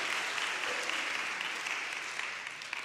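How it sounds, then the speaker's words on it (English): A congregation claps steadily for a boy who helped on stage during a church service, an even, sustained round of applause heard at moderate distance without talking. "Can you give Braxton a round of applause"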